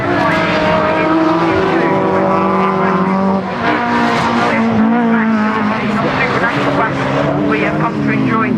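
Rallycross race cars, a Suzuki Swift and a Volvo, racing at Croft Circuit, with loud revving engines rising and falling in pitch as they pass, under continuous commentary.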